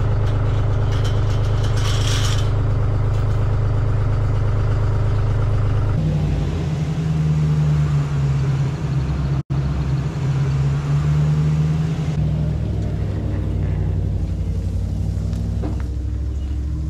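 A tractor engine on a bison ranch lifts a feeder and moves it, giving a loud, steady low rumble close by. The pitch shifts partway through as the engine works harder, then settles again.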